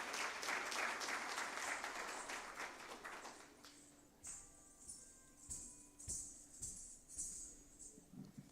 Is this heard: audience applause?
yes